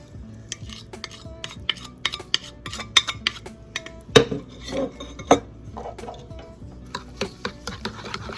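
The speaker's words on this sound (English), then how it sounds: "You want to just start mixing this up inside of your buttermilk." Smoked paprika, cumin and chili powder stirred into buttermilk in a bowl, heard as a steady run of close, sharp clinks and scrapes of a utensil against the dish, with no voices.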